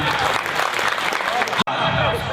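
Audience applause breaks out at a fresher's party in Sultanpur, dense steady clapping filling the clip with a brief dropout near the end before the applause resumes.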